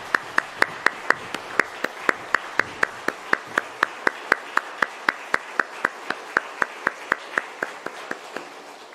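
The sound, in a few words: congregation applauding in church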